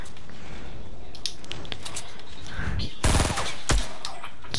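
Gunfire in a shooter video game, a few scattered shots followed by a louder burst of rapid fire, heard over faint background game sound.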